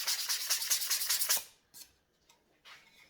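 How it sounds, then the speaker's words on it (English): A sanding block rubs rhythmically along the cut edges of a wooden raised door panel, about a dozen quick close strokes, then a pause with a few lighter scrapes. "I've just used a sanding block to just sand the edges."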